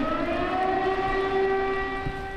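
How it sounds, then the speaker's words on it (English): Air raid siren in Kharkiv, a steady wailing civil defense tone with layered harmonics, loud and sustained, heard alone without speech. "The wailing siren has become part of the backdrop to life here in Kharkiv"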